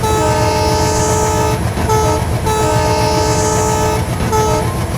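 Railway locomotive horn sounding a signal pattern of long and short blasts repeated twice, loud and close over steady engine rumble.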